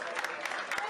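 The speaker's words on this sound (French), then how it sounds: "Vous pouvez applaudir." Applause at a school prize-giving ceremony for a top-ranked collège pupil, a brief burst of dense clapping from a hall audience over steady room noise.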